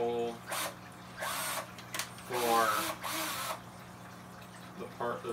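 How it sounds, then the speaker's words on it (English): A power drill bores a hole in a wooden iguana cage to fit a heavy-duty lock, running in several short whining bursts with pauses between them, while a voice speaks briefly near the start. "drill the hole"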